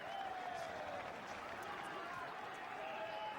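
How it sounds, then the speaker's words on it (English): Rugby stadium crowd at a Saracens versus Gloucester match, a steady roar of fans with scattered clapping and cheering, dense and continuous throughout, heard from within the ground. "Still a reasonable crowd and always a good noise."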